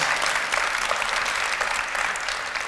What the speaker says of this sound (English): Let's give Bill Rudolph a big round of applause